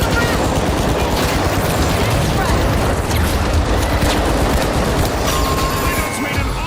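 Gunfire and explosions in the game THE FINALS, with a frag grenade blast within a dense, loud, continuous barrage of shots and booms throughout.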